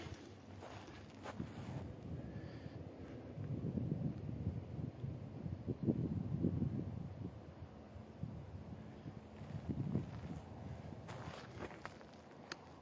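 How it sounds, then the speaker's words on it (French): Steady wind rushing outdoors with gusty swells, low and rumbling across the microphone, plus a few faint knocks and footstep-like thuds. "Là, il y a du vent qui souffle."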